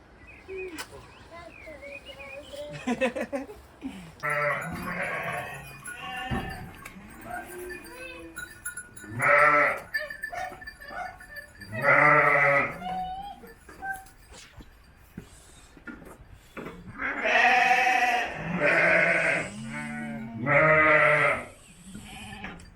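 Several Sakız lamb bleats, some close and loud, others softer, scattered among quiet gaps, with faint talking and outdoor noise in between.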